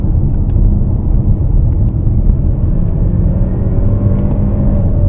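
Cabin of a 2018 Kia Sportage Turbo with paddle shifters during a downshift: a steady, loud low engine and road rumble with a faint rising whine toward the end and no voices.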